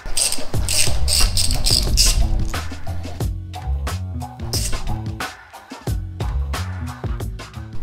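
Ratchet clicking steadily in repeated bursts of rapid pawl ticks, close and clear, while loosening the handlebar clamp bolts on a Honda Grom during a ProTaper bar install; no talking.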